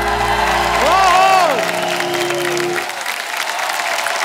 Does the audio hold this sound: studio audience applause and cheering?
yes